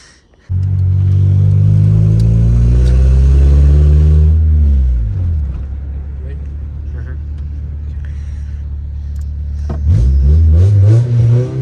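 A car engine fitted with a newly installed muffler revs loudly and close up, with a sustained roar that falls back to a lower idle rumble and then revs again near the end.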